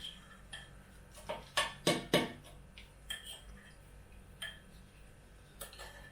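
Spoons clinking and scraping banana bread batter from a bowl, a string of light metallic taps and scrapes of varying loudness against a quiet background.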